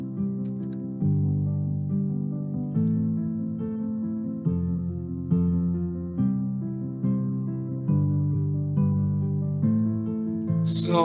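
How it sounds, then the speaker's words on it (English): Piano played from a software sample library, a sequence of sustained chords and melodic notes at moderate volume with no talking. "It sounds like a piano."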